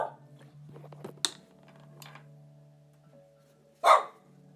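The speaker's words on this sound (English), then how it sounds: "You don't have to bark about it" A pet dog named Roxy barks at a neighbor indoors, giving a few sharp, separate barks, the last one loudest, alongside a soft voice.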